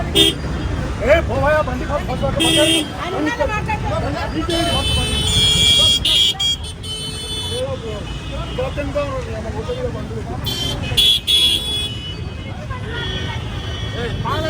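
Heavy street traffic in Hyderabad with buses and cars, repeated car horns honking near and far over constant crowd babble, while a voice talks throughout.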